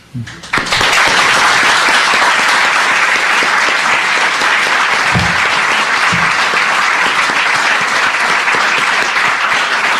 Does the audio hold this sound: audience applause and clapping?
yes